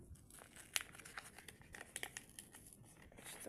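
Soft crinkling and crackling of a paper packet being opened, with a few sharper rustles and small tears, close by and fairly quiet, no talking.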